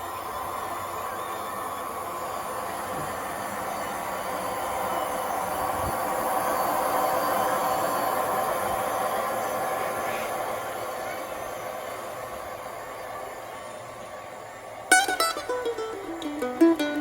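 O scale Southern Pacific model train running on a detailed layout, a steady low rumble and hiss of rolling wheels throughout, with sharp metallic clicks and squeals near the end.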